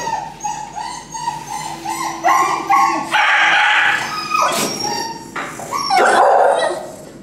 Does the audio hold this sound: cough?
no